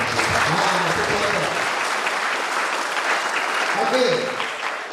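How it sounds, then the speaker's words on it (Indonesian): Audience at an Easter church youth camp session applauds, a dense, loud wash of clapping sustained for about five seconds before easing slightly at the end. "Mari kita berikan tepuk yang meriah."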